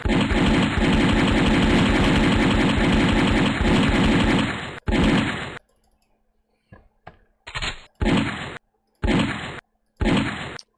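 Rapid automatic fire from an M16 assault rifle shooting targets in a Windows simulator game, generic effects: a long sustained burst, then several short separated bursts with silent gaps.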